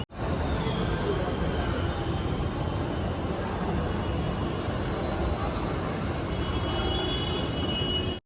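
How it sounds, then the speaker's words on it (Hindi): A metro train rolls along with a steady, loud, close rumble and broad rushing noise from inside the carriage, unbroken for several seconds with no clear voices. "बैठते हैं मेट्रो में।"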